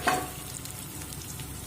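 Halved boiled eggs fried into a dal and egg curry in a pan, with a brief clatter at the start as they go in, then a steady, moderately loud sizzle and stirring throughout.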